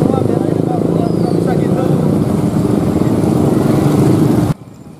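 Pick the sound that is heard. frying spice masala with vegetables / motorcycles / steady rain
motorcycles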